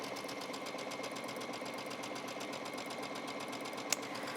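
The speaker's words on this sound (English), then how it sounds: "And I'm going to sew the seam." Sewing machine running steadily as it stitches a seam through several layers of tank top fabric, a continuous rapid mechanical whir with one brief sharp click near the end.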